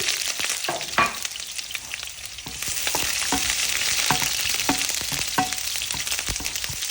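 Turkey fillet fries in a pan with a steady, close sizzle and crackle, broken by scattered pops and a few sharp clinks from utensils, with no talking.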